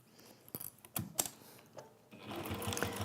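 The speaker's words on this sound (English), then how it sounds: "I'm going to baste these bits in place first" A sewing machine bastes pieces of Chatham Glyn crafty velvet in place, a few short stitching bursts followed by a steadier run, close and fairly quiet with no talking.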